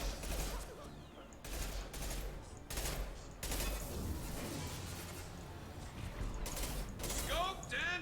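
Mantis sniper rifle fire in Mass Effect 2: loud close cracks come every second or so over constant combat clatter and mechanical clicks, with a twanging ring near the end.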